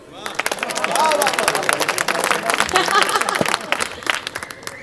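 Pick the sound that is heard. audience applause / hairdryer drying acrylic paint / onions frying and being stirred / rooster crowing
audience applause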